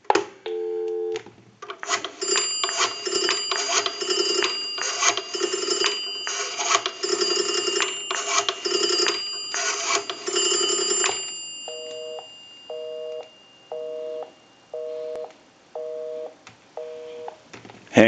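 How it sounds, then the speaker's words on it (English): A Northern Electric 3-slot payphone plays a burst of touch-tone dialing beeps, then rings through before a steady repeating busy signal pulses out in even on-off beats, close and clear with no talk. "We'll call my number and it'll be busy."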